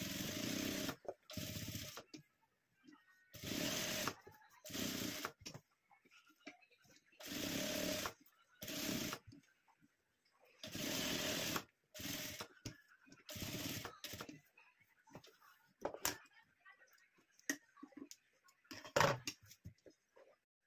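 A sewing machine stitches a blouse neck in short bursts of rapid whirring, stopping and starting repeatedly with quiet gaps between runs, fairly close and alone without talk.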